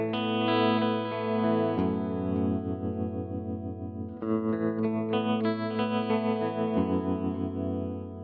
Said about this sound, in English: we can hear what that sounds like with our latching control switch